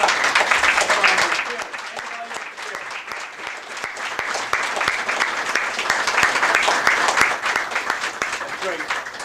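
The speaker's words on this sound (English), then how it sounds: "I want a round of applause for these guys" At a Chamber of Commerce luncheon, an audience applauds the foundation team with sustained, dense clapping that swells and dips, sharp individual claps standing out in the crowd.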